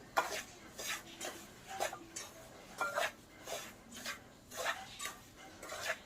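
Grated coconut being mixed into a rava ladoo mixture in a bowl, heard as faint rhythmic scraping and clinking of a spoon. About nine strokes come at a steady pace, close but quiet, with no voices.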